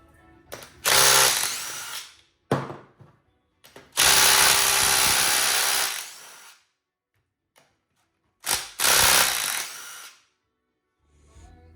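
Cordless DeWalt power tools working on a destroyed NP241C transfer case: several loud, close bursts of drill or impact driver running, each a second or two long, separated by short pauses and small clicks, with no talking.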